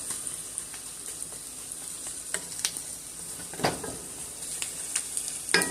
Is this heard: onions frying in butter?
yes